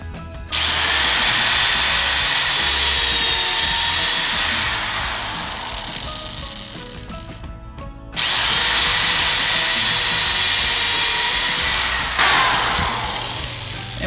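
Power drill driving 3-inch screws through 2x4s to fit casters on a wheeled kitchen island: two long, loud, steady whirring runs close by, the first gradually slowing and bogging down, then a brief pause before the second.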